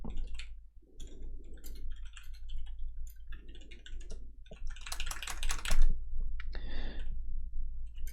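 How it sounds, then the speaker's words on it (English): Close, loud clattering keystrokes on a Logitech computer keyboard, with steady bursts of typing, punchy key smacks and short pauses over a low constant hum, with no talking. "Just hearing the smack of that lovely Logitech keyboard."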